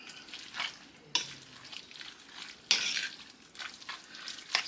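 Salmon rillette mixture, made with two kinds of salmon, stirred in a bowl: soft, scattered scraping strokes of a utensil with a few sharper clinks against the side, close and quiet, no voices.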